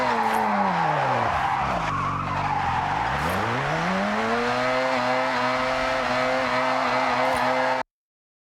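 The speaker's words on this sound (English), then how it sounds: "You want to build up as much speed as you can and just throw it into a drift." A car drifting in Forza Horizon 6, with a loud, sustained engine note dipping and climbing as the tires squeal and skid through a long slide, then a sharp cutoff.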